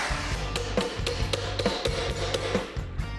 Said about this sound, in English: So the next step is to make a little dolly tool that we can hammer the thing back into shape with.